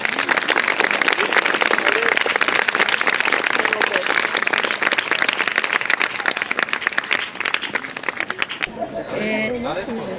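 Audience at a youth baseball league award ceremony applauding award-winning players: dense, sustained clapping throughout, ending abruptly into quieter room sound with a voice.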